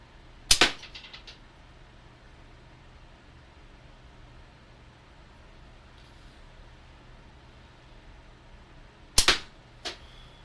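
Two sharp slingshot shots spaced far apart, each a sudden snapping crack with a quick rattling tail, set against a quiet outdoor background.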